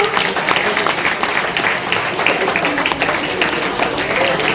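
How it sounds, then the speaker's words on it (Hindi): Students at an Anglo Urdu high school's Teachers' Day function keep up steady, dense clapping for their teachers, a continuous roomful of hands with a faint murmur of voices underneath. "तालियां रुकनी नहीं चाहिए बच्चों"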